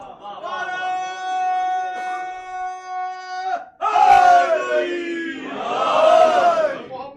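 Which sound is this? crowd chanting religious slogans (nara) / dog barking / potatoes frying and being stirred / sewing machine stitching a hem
crowd chanting religious slogans (nara)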